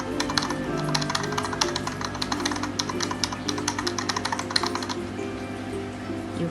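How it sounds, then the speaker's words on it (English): Rapid keyboard typing from an editor's sound-effect library clatters in a steady, fairly quiet stream of key taps that thins out near the end. "you can also add sound effect like people typing or people laughing"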